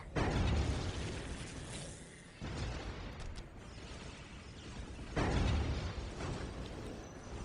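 Strafing-run explosions in Warhammer 40,000, a 2006 strategy game, rolling in as broad booming bursts with a loud blast at the start, a brief lull, then another heavy wave of rumbling detonations.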